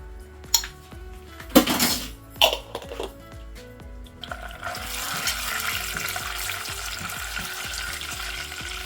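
Garlic and ginger paste hitting hot oil in a pan: a few loud clanks and scrapes of a spoon first, then a continuous, close, crackling sizzle that fills the rest of the time, with no voices.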